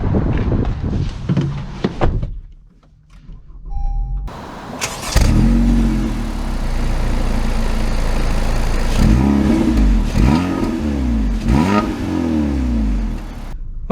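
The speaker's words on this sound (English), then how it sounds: "Let's see how it drives." An Acura ILX luxury sedan starts up after a brief hush, its engine then revving and pulling away in several rising surges, loud and close with no talk.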